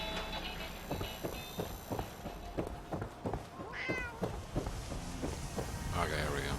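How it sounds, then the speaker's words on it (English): Cat meowing inside the video game Fallout 4, several drawn-out meows rising over game sounds with rhythmic footstep-like thuds and a faint voice. "I just hear a cat."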